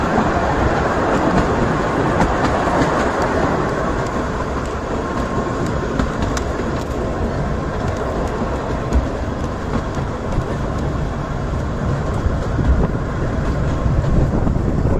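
A Ventspils steam railway train rolls over a bridge, making a continuous loud rumble with rattling, clattering wheel noise heard from on board, with no pauses or talk.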